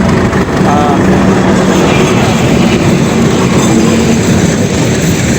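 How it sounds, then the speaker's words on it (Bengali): Continuous rumble of a local passenger train rolling along the tracks, with rhythmic clatter of wheels and a faint squeal, steady and loud throughout. "এটাই হলো লোকাল ট্রেন"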